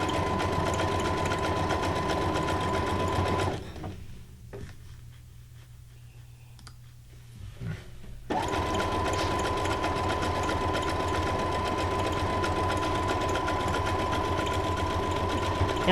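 A sewing machine runs decorative stitch number 58 on junk journal paper, a steady fast mechanical whir and clatter that pauses for a few seconds in the middle, then resumes at full speed.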